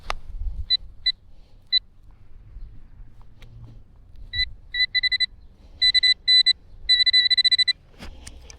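Metal detector sweeping over a buried target gives short, thin electronic beeps, first isolated, then in quicker clustered bursts over quiet scraping and handling noise.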